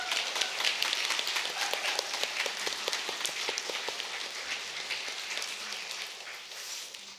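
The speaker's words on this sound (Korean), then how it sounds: "서로에게 박수하겠습니다" Audience at a mission retreat applauding each other, dense crisp clapping from many hands sustained through the clip and close by.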